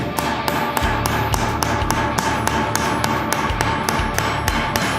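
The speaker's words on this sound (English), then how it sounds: "Once I have that in place, come in with the ball peen." Ball peen hammer flattening metal finger scales sandwiched onto leather for gauntlets, struck in a steady run of about a dozen sharp, close metallic taps with short even gaps.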